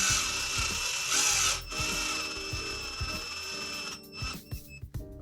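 Screws being driven into a 3D printed undercarriage for an RC Volvo 505 excavator, steady close grinding and whirring with a sustained tone and repeated low clicks, then a short burst of sharper scraping sounds near the end.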